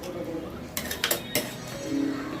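A metal lid lifted off a pot of bone soup with masala, giving a short burst of clanks and clinks in the middle, while a voice talks quietly underneath.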